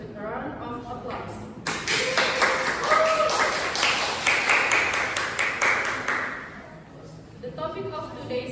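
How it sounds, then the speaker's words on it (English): Audience at a British parliamentary-style university debate applauds to welcome the debaters, a loud sustained round of clapping that swells and carries for several seconds, with voices and cheering mixed in and softer clapping before and after. "Please give a warm welcome to our debaters with a round of applause."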